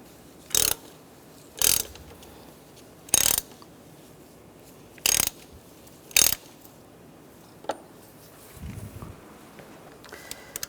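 Five sharp ratchet bursts, evenly spaced and close, as an oil filter cap is tightened on a 2005-2010 Chevy Cobalt, followed by faint clicks and handling sounds.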